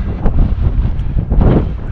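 Strong mountain wind on the Béout blasts against the microphone as a loud, continuous rumbling roar with gusty surges, and no one speaks.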